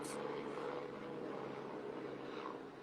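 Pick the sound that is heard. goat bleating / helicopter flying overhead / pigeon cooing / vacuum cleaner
helicopter flying overhead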